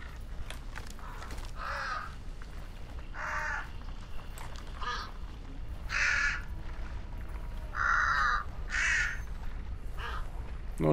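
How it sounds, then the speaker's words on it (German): Crows in the video game Hunt: Showdown, cawing in a series of harsh, separate calls spaced a second or two apart, moderately close over a faint ambient outdoor bed, without voices. "Auf der Brücke sind die Krähen."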